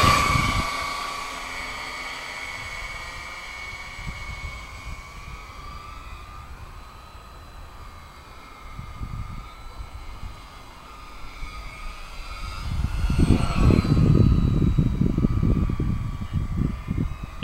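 A radio-controlled model Mosquito airplane runs at half throttle, giving a steady harmonic motor whine over wind rumble, with the noise swelling louder near the end.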